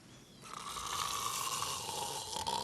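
A countess in a Sesame Street cartoon lets out a single long, loud, rasping snore that builds and holds with a whistling edge, close and alone without talk.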